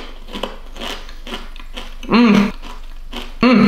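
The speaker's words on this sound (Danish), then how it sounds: "Første bid." Bacon is bitten and chewed up close, giving short crisp crunching bursts broken by two brief voiced sounds.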